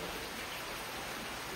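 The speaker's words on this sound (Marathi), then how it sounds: "दिवाळी आली तरी हा पाऊस काय जायचं नाव नाही घेत" Steady rain falls during the Diwali season, an even hiss of dense drops on surfaces, moderately loud and unbroken, with no voices over it.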